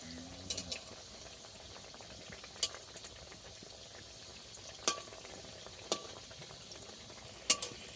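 Soft background sizzle of semolina sweets frying in a small batch of oil, punctuated every second or two by sharp isolated pops and spits, no voices.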